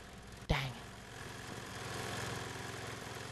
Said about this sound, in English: I'm just gonna leave the lawnmower running.